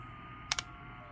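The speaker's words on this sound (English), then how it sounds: "I can try typing with one hand here." A computer keyboard tapped with one hand gives two quick, close keystroke clicks in a row against quiet room tone, with no talking.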